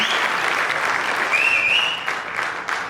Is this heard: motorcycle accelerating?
no